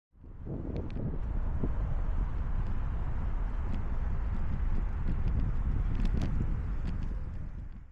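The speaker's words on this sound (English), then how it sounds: "It's a little windy" Steady wind buffets the microphone on a bike path near LAX in Los Angeles, a constant low roar with no talking, faint ticks and rattles of riding mixed in.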